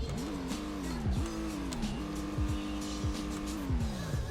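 An old boxy wagon in the Roblox game Greenville revs its engine. The pitch swoops up and down repeatedly with squealing sweeps over a steady motor drone, continuous and fairly close.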